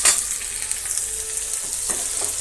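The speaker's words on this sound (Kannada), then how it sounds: "ಇದು ಫ್ರೈ ಆಗ್ತಾಯಿದೆ ಈರುಳ್ಳಿ ತೊಂಡೆಕಾಯಿ." Onion and ivy gourd frying in a pan, a constant close sizzle with a few soft taps and stirs breaking through.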